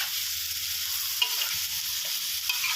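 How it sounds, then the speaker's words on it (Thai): Holy basil tossed in a wok with dried chili, squid and minced pork produces a continuous close frying hiss, with occasional light clinks of the spatula as everything is stirred together; no voices. "ผัดคลุกเคล้าให้ทั่วนะครับ"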